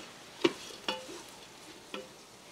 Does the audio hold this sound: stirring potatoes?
yes